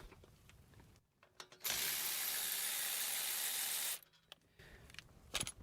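A ratchet works a rear axle bolt loose on a 2001-2005 Chrysler Town and Country AWD in a dense, continuous whirring burst of about two seconds. Quieter clicks and handling noises come before and after it.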